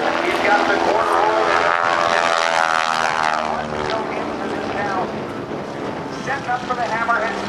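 Aerobatic propeller stunt plane maneuvering at an airshow at NAS Oceana, its engine droning steadily with rising and falling pitch through the whole stretch, close and loud, with a commentator's voice talking over it.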